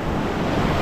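Ocean waves roll onto the shore at Real, Quezon, a broad continuous wash of surf with wind noise buffeting the microphone, loud and close, with no talking.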